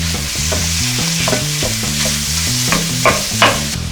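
Beef browning with softened onions in hot oil for an empanada filling gives a steady sizzle with stirring scrapes, heard under a melodic music track with no talking.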